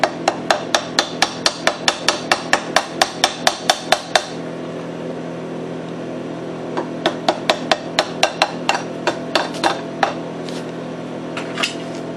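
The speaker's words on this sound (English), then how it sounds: "Beat that slag off." Sharp metallic hammer strikes knocking slag off a weld on a Briggs & Stratton engine, a fast run of about twenty blows, a pause, then another slower series, close and crisp.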